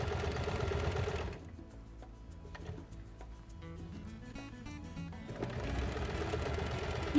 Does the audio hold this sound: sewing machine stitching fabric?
yes